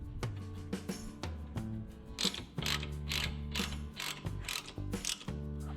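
A ratchet clicks in quick bursts while tightening bolts on a Mega Moto 212 minibike swing arm, the rapid pawl ticking close and fairly quiet, with short pauses between strokes and no voices.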